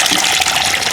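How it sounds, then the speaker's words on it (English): Water gushes out of a toilet tank after its valve is pulled up, a loud, steady, close-up rush of flowing water that lasts only a moment. "There goes a bunch of water."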